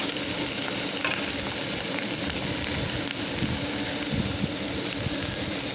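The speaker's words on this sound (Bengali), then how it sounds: "পেঁয়াজটা দেওয়ার পর এরকম কাঁচা লঙ্কা আর হচ্ছে রসুন কিছুটা দিয়ে দিলাম ভালো করে ভেজে নিচ্ছি" Onion, green chili and garlic frying in oil in a pan, a dense, steady sizzle with faint crackles and occasional stirring scrapes, close and continuous with no voices.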